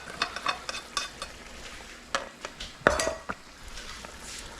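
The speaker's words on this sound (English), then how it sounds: "Stir this all together." A spoon scrapes and stirs hot, steamy arroz con pollo rice in a pot, breaking up the crispy bits stuck to the bottom. Close, irregular scrapes and clinks sit over a soft sizzle, with no talking.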